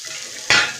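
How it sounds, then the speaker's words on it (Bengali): Potatoes tossed with turmeric, chili powder and salt are stirred in a frying pan, a soft steady sizzle giving way to a sudden louder scrape and hiss of the spoon moving the food, close and alone. "খানিকক্ষণ এগুলো নাড়ব।"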